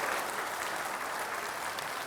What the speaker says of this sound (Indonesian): Kita kasih tepuk tangan dong untuk dua-duanya.